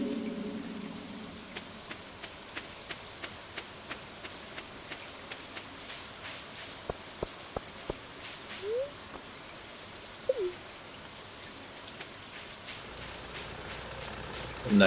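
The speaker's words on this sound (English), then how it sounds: "A nice rainy day." Rain falls steadily in Stardew Valley, a soft, even patter broken by faint ticks, two brief chirps and a rumble, with nothing else over it.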